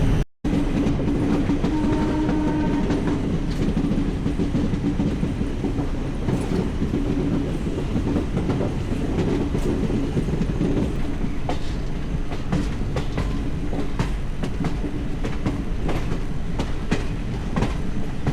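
The Kacheguda Express 17604 rolls out near Malakpet after a halt, heard from inside a 2AC coach as a continuous rumble with clickety-clack of wheels on rails. A brief cut comes right at the start.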